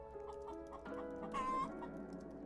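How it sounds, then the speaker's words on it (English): Chicken clucking in the Roblox game Adopt Me, a few short clucks repeating rhythmically over steady game ambience, with one louder, higher call rising briefly in the middle; no talking. "Okay, seriously, I keep hearing a chicken."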